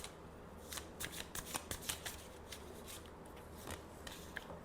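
A tarot deck is shuffled, giving soft, fairly faint papery riffles and light card taps in quick irregular bursts against a steady background hiss.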